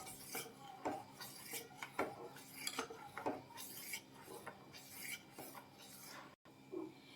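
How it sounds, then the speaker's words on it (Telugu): A utensil stirs a chili powder and water mixture in a cooking pot, producing repeated faint scraping and clinking strokes in an uneven rhythm, quiet and close, with no talking. "ఇలా యాడ్ చేసుకొని ఒక 5 మినిట్స్ ఇలా తిప్పుతూ ఉడికించుకోవాలండి."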